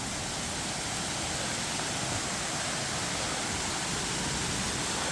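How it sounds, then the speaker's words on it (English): A waterfall on a woodland walk near Matlock, Derbyshire, gives a steady, broad rushing roar of falling water, close and unbroken for the whole stretch, with no talk. "this is the first part of the waterfall"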